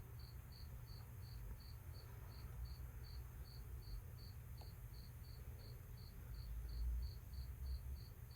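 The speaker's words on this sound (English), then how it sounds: "the crickets outside of my window are just screaming" Crickets outside a window chirp in a steady, evenly spaced pulse at a moderate distance, over a low background hum.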